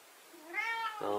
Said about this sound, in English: Why you keep meowing like that?